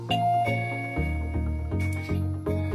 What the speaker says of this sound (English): When someone presses the button, the chime goes.